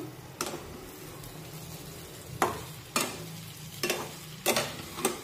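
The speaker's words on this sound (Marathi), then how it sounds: "रवा छानपैकी हलवून घेऊ" Semolina halwa (sheera) is stirred in a kadai with a spoon, a series of about six scraping strokes at irregular intervals, close and moderately loud over a faint steady background.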